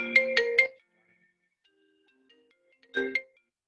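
A phone ringtone sounds from a computer, two short bursts of trilling tones separated by a pause, fairly clear and close with no talking over it.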